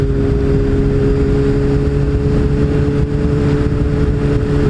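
A Honda CBR600RR motorcycle engine runs loud and close, a steady throaty drone with the throttle twisted, the roar sustained throughout with no talk.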